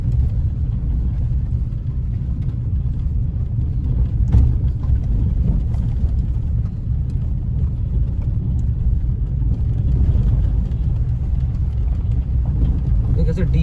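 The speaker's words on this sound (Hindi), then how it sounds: "स्पीड एकदम कम कर दी है मैंने गाड़ी की।" A car creeping slowly along a road at night through tiger territory, with a steady low engine rumble and road noise heard from inside the vehicle, continuous and fairly loud.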